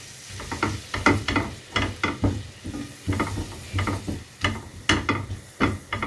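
Flour fries in melted butter in a pan while a spoon stirs it steadily, with rhythmic scraping strokes over a constant soft sizzle, close and fairly loud.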